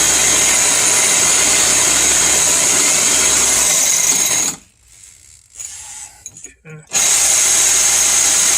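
An SDS hammer drill grinds loudly and continuously into a concrete block wall, stops for a couple of seconds with brief rattles, then resumes at full force.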